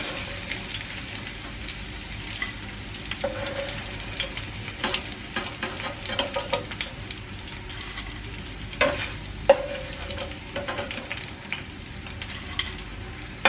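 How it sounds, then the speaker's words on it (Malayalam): Fish pieces fry in hot oil for Kerala fish pickle, giving a continuous crackling sizzle. A spoon stirs and scrapes through the oil with bursts of louder splatter, and no one speaks. "മീൻ നല്ല മൊരാന്നനെ മൊരിഞ്ഞ് വന്നിട്ടുണ്ട്"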